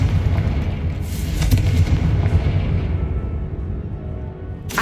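Confringo fire blast spell exploding in Hogwarts Legacy, a deep booming blast with a low rumbling tail that fades over several seconds, loud and close, with no talk.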